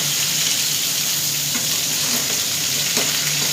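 Chopped ridge gourd frying in hot oil in a pan gives a steady, loud sizzle with faint crackles. It runs the whole time with no talking.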